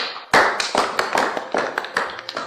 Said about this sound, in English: Oh, that's good. Let's clap for her.